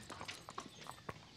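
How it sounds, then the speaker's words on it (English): A horse's hooves clip-clop on hard ground in a short, faint burst of irregular knocks, with no voices. "Is that the same horse?"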